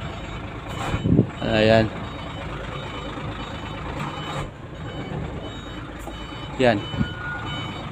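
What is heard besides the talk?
trailer truck reversing with reversing beeps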